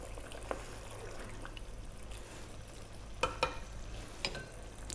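Prawns frying in a pot for biryani over medium-high heat get a quick stir, with a low steady sizzle broken by a few sharp clinks and scrapes of the utensil, close and fairly quiet.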